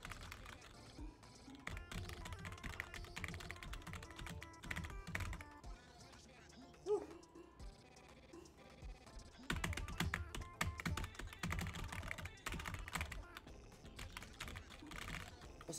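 Keyboard keys are struck rapidly in the Friday Night Funkin rhythm game, dense bursts of clicking mixed with the game's music and sound effects, pausing briefly midway before resuming.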